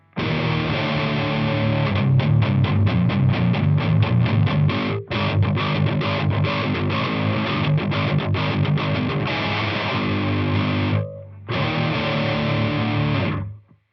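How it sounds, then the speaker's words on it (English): A heavily distorted electric guitar through a Wendigo distortion pedal plays chords and riffs loudly with a thick, saturated tone, pausing briefly twice before continuing. "this is what we get just with the Wendigo, the distortion pedal"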